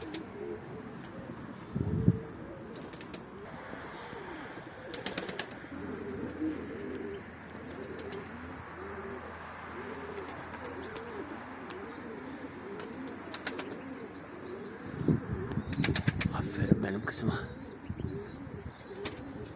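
Flock pigeons cooing steadily and close by, with chirps, occasional bursts of wing flapping and a person talking faintly in the background.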